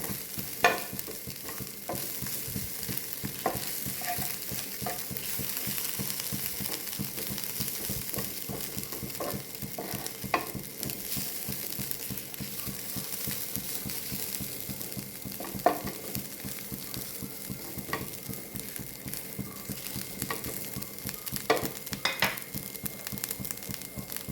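Green beans frying and being stirred in a pan for a Kerala upperi stir-fry, a steady close sizzle throughout with frequent scraping clicks of a spoon against the pan and no talk.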